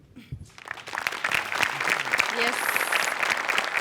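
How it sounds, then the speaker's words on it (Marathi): Loud applause from a studio audience at a Marathi comedy sketch show, building after a quiet start and holding steady, with a voice briefly speaking over it. "यासाठी जोरदार टाळ्या"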